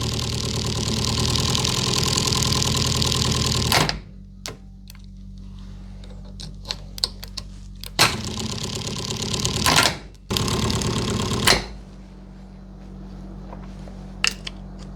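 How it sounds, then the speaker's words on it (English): A Morris Marina 1.3 Coupe Deluxe engine runs close by at a steady, low idle throughout, broken by loud, rough, roaring bursts at the start and twice more later, with scattered sharp clicks and ticks between them and no talking. "But if I do this, it runs."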